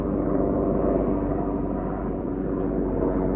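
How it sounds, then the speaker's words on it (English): Loud, steady low rumble of a helicopter flying past overhead, continuous and droning with no speech. "It's just a helicopter flying past in that direction."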